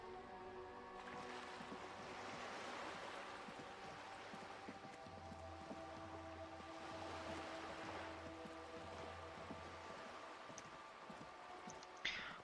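Shore waves wash in steady, rolling surges within the video game Disco Elysium, a continuous surf with low drone and wind noise underneath, no talk.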